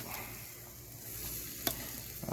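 Chicken wings cook on a grill with a continuous, even sizzle and hiss, punctuated by a few sharp ticks and pops, quiet and without talk.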